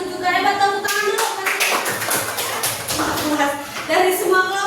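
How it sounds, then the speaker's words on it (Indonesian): Students in a classroom clapping for group presentations, a dense patter of hand claps throughout with children's voices chattering over it, fairly close and steady. "Tepuk tangan dulu."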